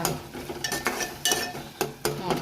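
A spoon stirring tomatoes in hot oil in a pan: repeated scraping clinks of metal against the pan in an uneven rhythm over a soft sizzle, close and fairly loud, with no talk.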